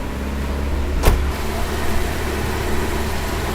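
A Volvo 245 engine idles steadily and close by while the idle speed is being adjusted, with a brief sharp click or squeak near the start and the hum otherwise unbroken.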